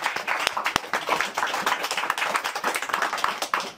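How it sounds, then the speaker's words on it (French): Audience at an amateur boxing event clapping after a fight, a quick dense patter of hands from a small crowd, fairly close, lasting a few seconds. "On applaudit."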